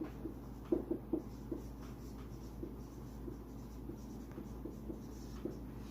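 A teacher writing spellings on a board during a class, a quiet scattering of light taps and scratchy strokes in a faintly humming room, with no talk.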